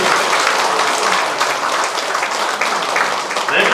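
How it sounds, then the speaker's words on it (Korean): A large crowd at a citizens' town-hall meeting in Sejong breaks into loud, sustained applause, a dense wash of clapping that carries through the whole stretch without pause. "전폭적 박수 한번 쳐주십시오."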